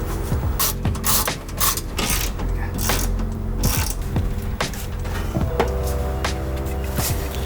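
Ratcheting wrench loosening bolts to remove a seat from a van, quick close clicking runs with metallic clatter and brief pauses.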